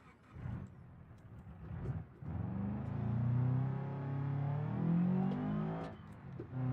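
A racing car's engine in a video game fleet-car race, revving steadily with a rough, growling tone that rises and falls, loud and close throughout with brief dips near the start.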